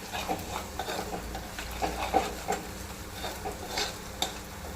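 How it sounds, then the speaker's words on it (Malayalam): Fish curry masala with curry leaves frying in a pan while being stirred, a low steady sizzle punctuated by soft, regular spatula scrapes and light clinks, close and moderately quiet, no voices. "നല്ലപോലെ ഇളക്കി പിന്നെ പച്ചമണമൊക്കെ മാറി നല്ലപോലെ മൂത്ത് വരണം"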